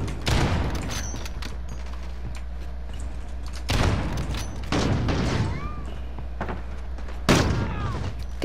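Gunfire in a multiplayer shooter game comes in three loud bursts of shots and booms, spaced several seconds apart over a steady low background hum, with faint whistling effects between them.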